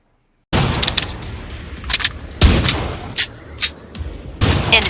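Rifle gunfire in Killing Floor 2, a burst of several loud close shots in uneven rhythm with sharp cracks and a dense rumbling tail between them, no talking.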